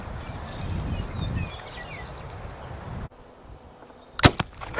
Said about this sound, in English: see if we can't kill a jug or 2